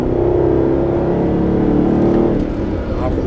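Mercedes SLS AMG engine accelerating on the throttle, a steady loud droning roar that holds across the clip, with a slight dip near the end.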